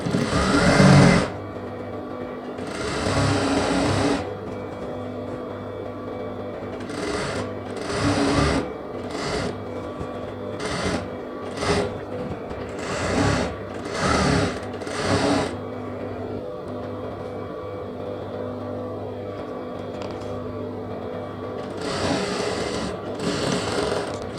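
A sewing machine stitches the leg seam of a semi-patiala pant, running in short buzzing bursts separated by brief pauses, close and steady throughout.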